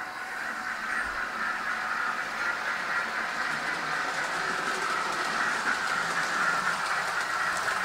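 An SR T9 locomotive rolls downhill on rails during a railway ride, giving a steady broad rushing rumble with faint hiss, continuous and moderately loud throughout with no voices.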